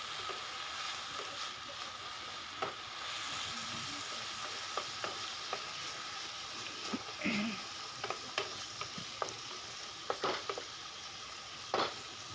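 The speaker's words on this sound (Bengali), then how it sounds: "এখন আলুটা একটু নাড়াচাড়া করে ভালো করে ভেজে নেব মিডিয়াম ফ্লেমে।" Potatoes fry with a low, steady sizzle in a pan over a medium flame, broken by scattered clicks and scrapes as they are stirred now and then.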